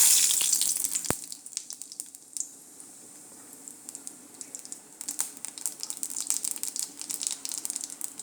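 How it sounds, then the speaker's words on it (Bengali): Cumin seeds crackle and splutter in hot oil left from frying tilapia, opening with a loud hiss and settling into a steady close-up sizzle with scattered sharp pops. "জিরেটা ফুটে এসছে, দিয়ে দেব"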